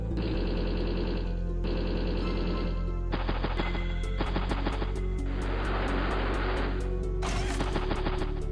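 A bomber aircraft unit in the strategy game Advance Wars: Days of Ruin, a loud, steady mechanical engine drone layered with rapid, clattering battle effects that shift every second or two, with no voices.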